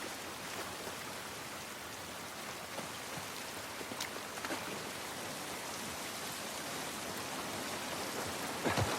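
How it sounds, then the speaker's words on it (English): Steady, even rain hisses throughout a game scene from The Last of Us Part 1, a dense wash of falling drops with a few brief spatters and a louder splash near the end, no voices. "This rain ain't gonna do us any good."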